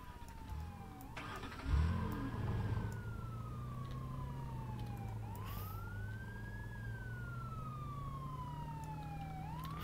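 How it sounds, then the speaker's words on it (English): A video game siren wails, rising and falling in long, slow sweeps over a steady engine drone, loud and continuous, with no talking. "I hear sirens."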